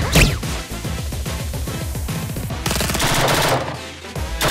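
Rapid bursts of support gunfire from the Blue Archive video game, loud and close, with sharp repeated shots in quick rhythmic volleys that run continuously across the clip.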